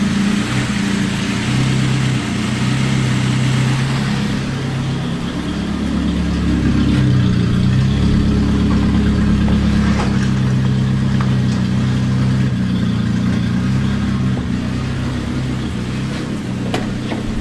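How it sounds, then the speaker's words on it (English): Car engine idling after an engine oil flush with diesel, a loud, steady low rumble that holds throughout with slight fluctuations, close by and with no talk. "Let it idle a minute or two."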